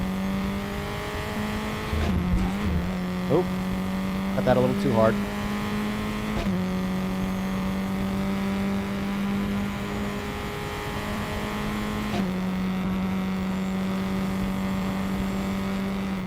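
A race car's engine drones steadily in the RaceRoom sim racing game, a constant high-pitched whine with brief gear-shift dips and a short burst of tire noise, while someone talks over it.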